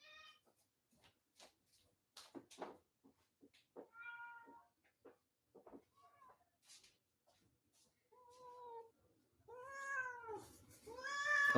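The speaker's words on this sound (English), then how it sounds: "She was meowing" Domestic cat meowing several times, with scattered soft calls early on and longer, louder, rising-and-falling meows toward the end, fairly quiet overall with no background noise.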